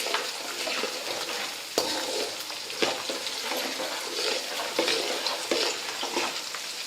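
Garlic and roasted gram fry in a pan while being stirred, a continuous bright sizzle punctuated every second or so by scraping strokes of the spoon against the pan.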